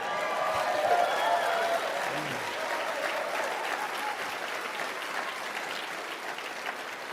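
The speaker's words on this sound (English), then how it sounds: "You ought to give yourselves a round of applause." Listeners at a motivational speech applaud themselves in a full, sustained round of clapping from a large crowd, strongest at the start and then holding steady.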